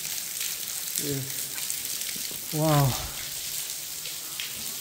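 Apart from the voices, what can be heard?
rain water pouring down a railway tunnel air shaft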